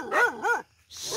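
A dog gives two quick close barks, then a short pause and the start of another bark, heard loud and near on a roadside in Sagay, Cebu.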